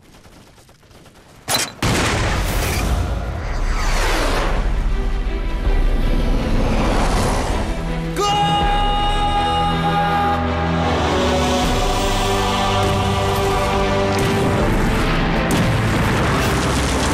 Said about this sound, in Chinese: 不好了，清明他们的炮兵阵地遭到敌人炮击